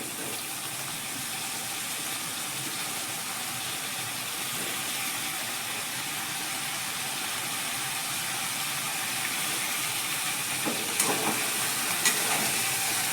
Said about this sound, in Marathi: आता हे त्याच्यामध्ये आपण हे वांगा आणि बटाटा जे धुवून ठेवलेलं आहे ते घालणार आहोत